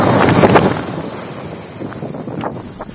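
Wind and sea ahead of Cyclone Amphan, with steady microphone-buffeting wind over rough surf, gusting loudest near the start before settling into a constant roar.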